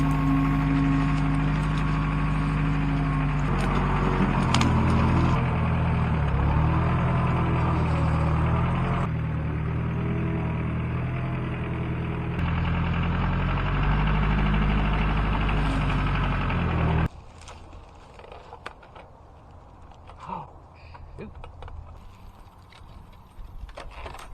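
A low, steady tractor engine rumble runs close by for most of the stretch, then cuts out abruptly, leaving quieter scattered clatter and faint background noise.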